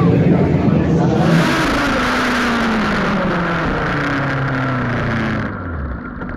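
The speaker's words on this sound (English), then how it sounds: "Terrible crash on the front straightaway." Racing cars roar along a front straightaway during a crash, a loud sustained engine wash with falling pitch sweeps as cars pass, easing near the end.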